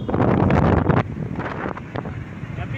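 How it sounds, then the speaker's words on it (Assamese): Strong wind buffets a microphone outdoors on a road during Holi. Loud, rough gusts roar for the first second, then ease into a lower, uneven rumble with smaller bursts. "বতাহ বহুত।"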